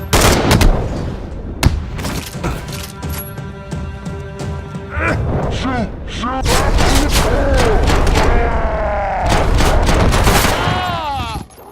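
Heavy gunfire in the Max Payne 2 video game, loud dense bursts of shots and booms layered over music and effects, near and sustained throughout with brief pauses between volleys.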